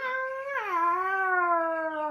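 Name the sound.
voice imitating a cat meow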